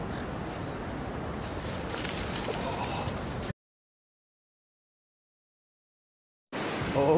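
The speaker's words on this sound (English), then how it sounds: "Herding seagulls." Outdoor bird calls from a flock of seagulls mix with wind and general noise, cut off by a stretch of dead silence midway before the sound briefly resumes.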